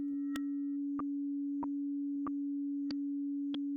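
A synthesized steady tone, its pitch modulated by a sawtooth wave, holds as a constant hum, with six small clicks at even intervals of roughly two-thirds of a second.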